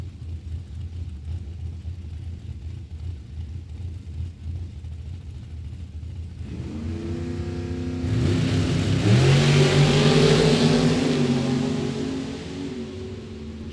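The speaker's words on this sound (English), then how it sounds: "Tyler McCurry, right-hand lane in a dragster" A dragster and a 1970 Duster launch side by side at a drag strip, Mid Michigan Motorplex. Quiet idling builds into a loud rising engine roar that peaks around the middle and then fades slightly as the cars pull away.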